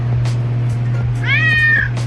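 A cat gives a single clear, drawn-out meow close by, cutting over a steady low hum and faint indoor background.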